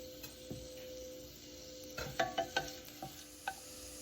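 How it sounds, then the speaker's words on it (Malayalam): Chopped garlic frying in hot vegetable oil for oats manchurian, a soft steady sizzle with a few sharp clicks of a spoon stirring against the pan in the second half. "ഇനി അതിലേക്ക് 1 ടീസ്പൂൺ വെളുത്തുള്ളി ചെറുതായി കട്ട് ചെയ്തത് ചേർക്കണം."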